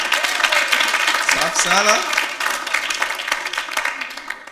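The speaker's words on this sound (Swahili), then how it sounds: "Kwanza naomba muwapigie makofi, muwapongeze hawa wazazi." An audience at a live Sunday show applauds the parents, a continuous burst of clapping that stays steady and slightly softens later, with someone speaking briefly over it.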